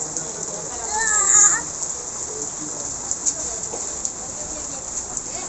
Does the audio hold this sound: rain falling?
yes